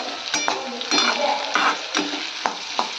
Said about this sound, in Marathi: तो कांदा चांगला परतवून घ्यायचे